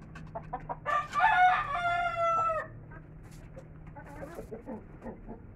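A rooster crows loudly and close by in a backyard, a long drawn-out call, with scattered softer clucks before and after over steady background hum.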